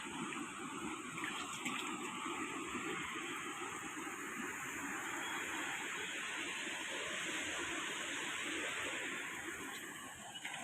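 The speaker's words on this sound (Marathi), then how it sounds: "बघा पाण्याचा आवाज सुद्धा येत आहे एकदम जोरात" Floodwater of the swollen Savitri river at Mahad rushes past a bridge in a continuous broad roar, steady and enveloping without pause, heard from close by with no voices.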